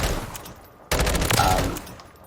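M16 rifle with a custom loadout firing in the Warzone 3 firing range, a loud burst of rapid automatic shots starting abruptly after a short pause and rattling on to the end, with no talk.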